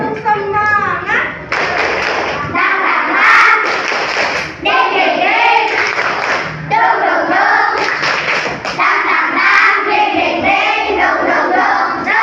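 A class of children in a classroom clap together in a rhythmic spirit-clapping chant, loud sharp handclaps mixed with their chanting voices throughout.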